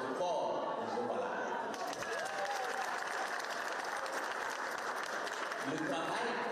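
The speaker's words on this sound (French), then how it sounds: "je vous amène à un applaudissement fort de Jobala." Sustained applause from a large audience at the Miss Niger 2022 beauty pageant, a dense steady clatter of clapping filling the hall for several seconds.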